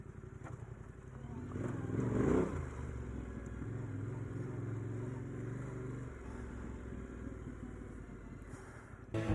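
A Yamaha Tenere 700 motorcycle rumbles along a muddy, rutted bridle track, its engine droning steadily with a brief swell of revving, heard up close under wind.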